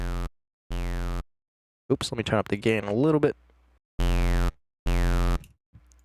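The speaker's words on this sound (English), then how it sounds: "This is what's going to be making the resonant noise for the Formant filter." A resonant peak filter shaping a formant filter in the Phase Plant synthesizer produces sustained buzzy tones, two short ones at the start and two after a pause, while a person briefly speaks in between.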